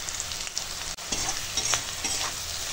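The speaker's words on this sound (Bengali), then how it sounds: "ডালটা ঘেঁটে নিয়েছি তো" Dal is stirred in a pot over heat, soft scraping strokes and bubbling sizzle close by, with a brief pause partway before the stirring resumes.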